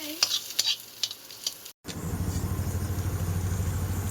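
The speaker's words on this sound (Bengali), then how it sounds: "এই যে এদিকে দেখো কাংরোল আর আলু ভাজা হচ্ছে" Pointed gourd and potato pieces frying in a pan make a close, continuous sizzle after a short gap, preceded by a few sharp clinks and bumps of utensils.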